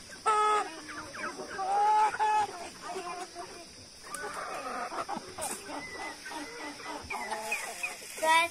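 Several chickens cluck and squawk close by in irregular bursts, overlapping one another against a quiet background.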